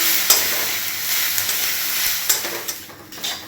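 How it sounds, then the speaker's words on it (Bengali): Black cumin seeds fry in a pan for a Bengali taro paste, giving a steady close sizzle with a few sharp clicks and stirring scrapes, no voices. "ভাজা ভাজা হয়ে এসেছে"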